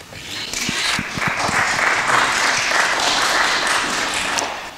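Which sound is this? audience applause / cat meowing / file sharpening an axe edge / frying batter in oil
audience applause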